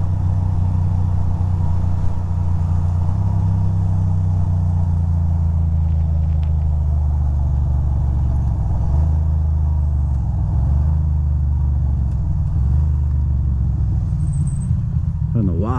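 A motorcycle lane splits through heavy, rain-soaked traffic between the Bronx and Brooklyn, its engine a steady low rumble mixed with surrounding car noise throughout, with a rider talking over it.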